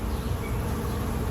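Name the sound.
honey bees buzzing during a hive inspection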